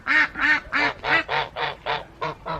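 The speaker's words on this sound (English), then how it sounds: "Come over to see the ducks, and they're all going apeshit." Ducks quack noisily in a garden, about nine loud, close, rhythmic quacks in quick succession with no talking.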